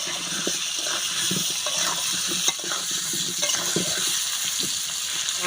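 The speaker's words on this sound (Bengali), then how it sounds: "মাংসের আলুগুলো ভেজে নেব।" Potatoes for a meat curry fry in mustard oil with salt and turmeric, a steady close sizzle broken by repeated scraping and stirring clatter from the spatula, with no talk.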